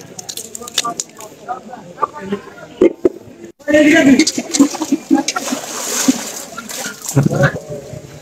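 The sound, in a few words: water flowing from temple well spring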